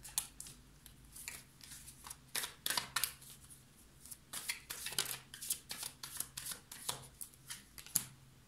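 Tarot cards shuffled and handled at close range, a run of quick riffling and slapping bursts with brief pauses between them, and no talking.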